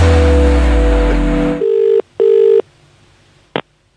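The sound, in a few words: telephone dialing and ringing to place a call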